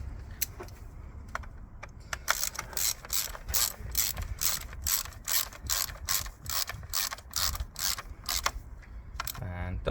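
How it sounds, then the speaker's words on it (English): A ratchet driver turns a T30 screw into a Volkswagen Passat TDI bracket, a steady run of rapid close clicks in a quiet workshop, ending with a brief faster whir. "screw the T30 in for the bracket"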